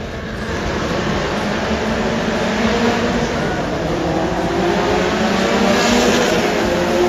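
Indian Formula 4 Championship race cars roar past continuously at trackside, a loud dense wash of high-revving engine noise with shifting pitch as cars pass, no voices over it.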